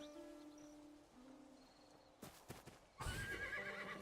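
A horse in the Neverwinter video game gives a loud, close whinny near the end, preceded by a few hoof clops and faint ambient game sounds.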